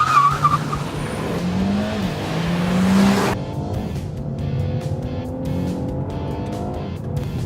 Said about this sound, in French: appuyer à fond sur l'accélérateur, et dès qu'on est prêt, relâcher le frein